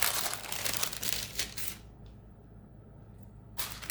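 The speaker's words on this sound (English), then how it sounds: "fold the parchment paper over like so" Parchment paper crinkles and rustles steadily as it is folded by hand, close up, with a brief quieter pause before the crackling picks up again.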